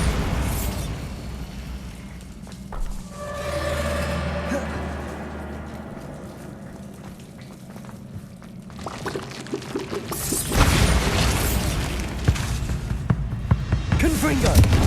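A Bombarda explosive spell detonates in the video game Hogwarts Legacy, building through a rising tonal charge and rumbling swell before a loud, broad crashing blast with scattering debris near the end, with game voice audible in between.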